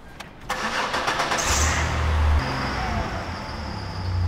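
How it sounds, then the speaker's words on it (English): A Chevy Impala engine cranks briefly, catches and settles into a steady running idle that rises and holds, close up, during a water pump replacement, with no talking. "This time we're gonna start the car and run it at 2500 RPM for 40 seconds."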